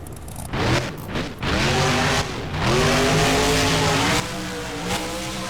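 The Monster Mutt monster truck in the BeamNG driving game roars loudly as its engine revs and surges, with tire squeal and a rough thump as it comes down off a jump onto a dirt mound.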